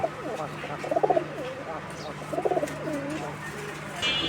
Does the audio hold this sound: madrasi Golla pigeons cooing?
yes